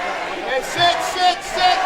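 Crowd in an amateur MMA arena cheering, a close mix of shouts and whoops rising in short bursts over a continuous murmur.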